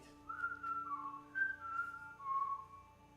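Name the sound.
faint whistle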